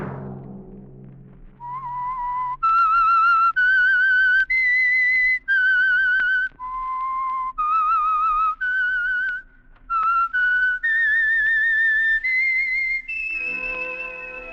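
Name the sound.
whistled theme tune of The Whistler radio program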